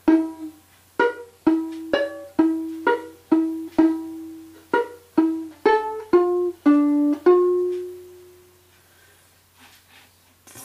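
Solo violin plays two parts of the fiddle tune Drowsy Maggie as a slow lesson demonstration: a string of distinct bowed notes, about a dozen, each started cleanly and decaying, ending on a longer held note that fades into near silence.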